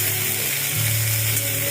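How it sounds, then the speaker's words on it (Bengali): Chopped onions frying in hot oil with crackling cumin seeds for a mutton fry, a steady close sizzle with a low hum running underneath. "এবার একটুখানি লালচে লালচে করে একটু ভেজে নেওয়া হোক।"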